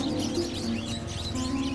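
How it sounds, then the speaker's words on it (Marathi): Sparrows chirp in a quiet outdoor setting, with small, repeated tweets and calls rising faintly above a soft, steady background hum. "चिमण्या ऐकता तुम्ही?"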